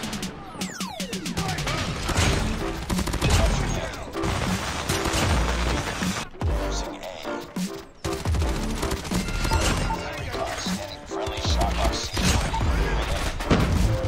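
Dense, loud gunfire and explosive crashes from a COD Mobile match fill the whole stretch, layered with game effects and a speaking voice, with a brief dip around the middle before the chaotic firing resumes.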